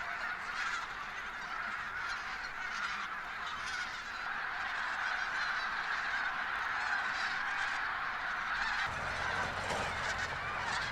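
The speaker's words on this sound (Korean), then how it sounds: "트럭 한 대가 지나가면서 새들을 노을진 가을 하늘로 날려보낸다" A large flock of geese honks continuously over a wide autumn wetland at sunset as they take flight after a passing truck, a dense, steady chorus of overlapping calls close and loud throughout.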